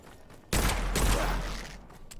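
A single loud burst of pistol fire erupts in the dark fantasy shooter Witchfire, with a sharp onset and a reverberant tail that fades over about a second and a half, with no talk.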